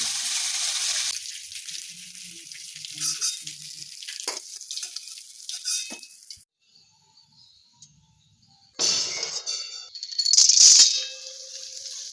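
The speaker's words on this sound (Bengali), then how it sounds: "প্রথমে পার্শে মাছগুলোকে ভালোভাবে ভেজে নিতে হবে।" Parshe fish sizzle in hot oil in a pan, starting with a bright hissing burst that fades to scattered crackles. A near-silent gap follows, then louder spitting bursts toward the end.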